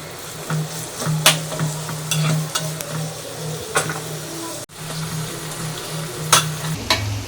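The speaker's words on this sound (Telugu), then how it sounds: "ఉల్లిగడ్డ అనేది బ్రౌన్ కలర్ వచ్చే వరకు ఎంచుకోవాలి, అప్పుడే బిర్యానీ అనేది టేస్ట్ వస్తుంది" Onions fry in a pan toward browning for prawn biryani, a steady close sizzle broken by frequent scraping stirs and clinks of a utensil against the pan.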